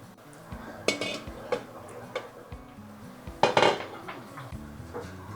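Sauce ingredients stirred in a pan with a utensil, producing intermittent metallic clinks and scrapes against the pan, close, with two louder clatters amid softer taps.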